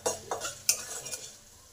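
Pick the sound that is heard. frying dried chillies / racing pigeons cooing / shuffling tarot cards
frying dried chillies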